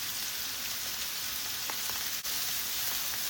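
Chopped onions hitting hot oil in a pan, a dense, even crackling sizzle held steady throughout at moderate volume, with a few faint pops and no voices.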